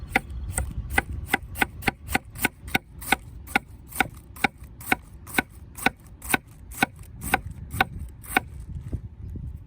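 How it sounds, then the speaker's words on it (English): A knife slices raw kohlrabi on a cutting board in steady, rhythmic strokes, about two crisp chops per second, each one sharp and close, with no talking. "I'm just gonna shred it with my knife a little bit."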